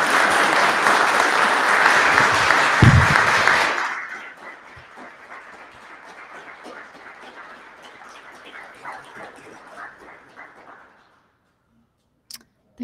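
An audience applauds loudly after a talk by artist Rina Banerjee, the clapping dense for several seconds, then thinning to scattered claps that fade out, ending in near silence.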